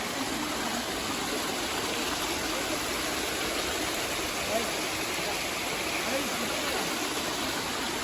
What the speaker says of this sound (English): So Antharganga waterfalls flowing right under my feet.